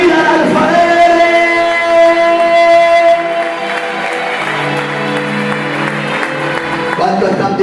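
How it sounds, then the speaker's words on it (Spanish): A church congregation applauds loudly during a pastor's anniversary sermon, with the dense clapping mixed under sustained musical tones and a voice. "Aplauda, aplauda fuerte los que le van la vida al alfarero."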